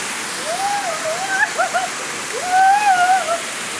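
The steady broadband rush of Matambag Falls, a waterfall visited in July 2024, fills the background, while people talk over the constant roar.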